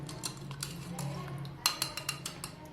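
A spoon stirs a sabja seed drink in a glass, producing a run of close, bright clinks and taps against the glass that grow sharper near the end, over a low background hum with a voice faintly present.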